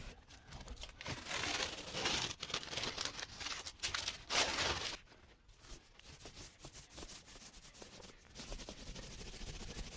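Painter's tape is peeled off a bedroom wall in repeated close, crackling tears and rubbing rustles, louder in the first half and then softer, with no voices.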